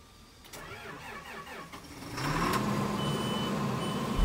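A diesel tractor that had been refusing to run, with diesel treatment added to the tank, cranks and catches, its engine rising into a steady, close idle.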